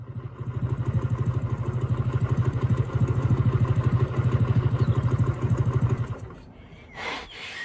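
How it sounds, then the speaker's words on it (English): A motorcycle engine runs steadily at close range with a loud, even idle rumble and pulsing beat for about six seconds, then cuts off, leaving a brief quiet rustle. "The motorbike I'm sitting on is a very special one."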